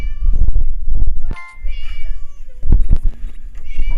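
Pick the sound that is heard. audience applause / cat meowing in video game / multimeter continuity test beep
cat meowing in video game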